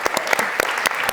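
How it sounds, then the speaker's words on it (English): Small audience applauding a chief science officer after a startup pitch at a community demo afternoon, with distinct, fairly loud individual claps in an uneven rhythm over a brief stretch. "let's applaud."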